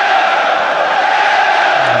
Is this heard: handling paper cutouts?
no